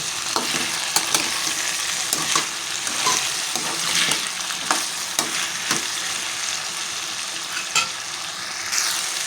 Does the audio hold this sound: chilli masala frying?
yes